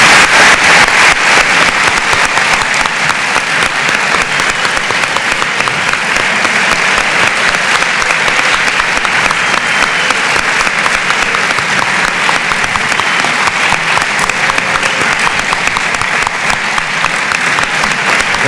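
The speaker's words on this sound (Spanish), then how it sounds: "me gustaría dar un importante aplauso" An audience in a school hall gives a physics lecturer long, dense, steady applause that stays loud and even throughout, with no voices standing out.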